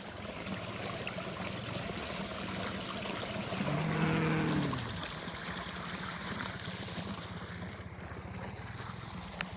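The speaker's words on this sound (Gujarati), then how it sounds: "પાણી આવે છે જો જો તાજું તાજું પાણી આવે એકદમ" Fresh water flowing at a farm homestead, a soft continuous rushing trickle heard close and fairly quiet, with a brief low tonal hum in the middle and no speech.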